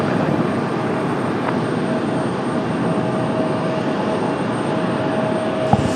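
Loud, continuous jet roar of an airliner taking off from runway 23 Right at Raleigh-Durham International, a broad steady rumble heard alone at close range.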